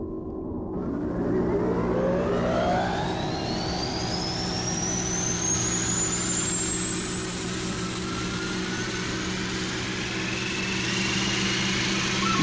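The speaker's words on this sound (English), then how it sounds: "Starting main engine flywheel." Space Battleship Yamato's main engine flywheel spinning up, a low mechanical hum joined by a rising whine that climbs steadily in pitch and then holds as a sustained, loud drone.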